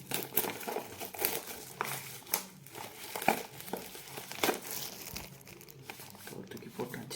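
Packaging of PTron Bassbuds wireless earphones being crinkled and torn open during an unboxing, irregular close rustling bursts of plastic and cardboard handling with some background voice.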